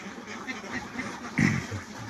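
Ducks quacking on a large duck farm with sheds, a low chorus of calls with one louder nearby quack partway through, over a faint background murmur.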